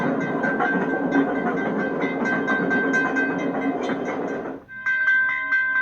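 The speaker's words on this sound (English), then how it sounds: "Graphic test footage of a staged crash demonstrates the deadly results of a train colliding" A train in a staged crash test with a bus rolls past in a steady, loud rumble of wheels on track for several seconds, then a sustained horn-like tone rings out after the rumble cuts off.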